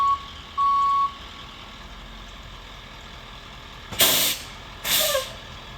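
A Monster Tree Service chip truck backs into position along a driveway, sounding one short reversing beep and then two loud hissing bursts of air brake, with a steady engine idle underneath.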